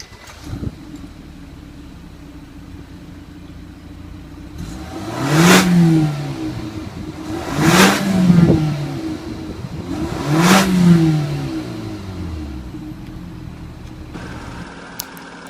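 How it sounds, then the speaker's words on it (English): A 2014 BMW 228i coupe's 2.0-liter inline four-cylinder idles quietly, then revs three times in even bursts, each rising to a loud exhaust roar before dropping back to idle. "give it a few revs and listen to the exhaust sounds"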